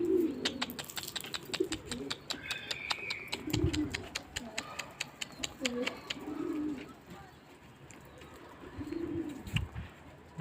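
Pigeons coo repeatedly on a loft roof, soft low rolling calls recurring through the clip amid faint chirps and outdoor ambience.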